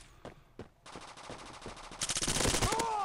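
Gunfire in the mobile shooter Bullet Force inside an office building: two isolated shots, then a steady rapid automatic burst that grows louder and more intense toward the end.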